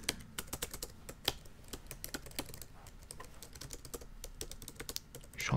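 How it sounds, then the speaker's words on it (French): Rapid clicking keystrokes on a computer keyboard, close and quiet, an irregular stream of taps with no talking. "je suis en train de taper dans le vide, mais on s'en fout. C'est juste pour le bruit du clavier."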